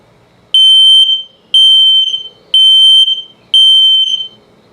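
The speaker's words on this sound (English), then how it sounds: "I'll put it through the self-test here so you can hear it. That's LP, carbon monoxide coming up, and low battery alert" Self-test of an LP gas and carbon monoxide detector in a 2021 CrossRoads Zinger 340RE RV: four loud, piercing electronic beeps, each about a second long, evenly spaced with short gaps.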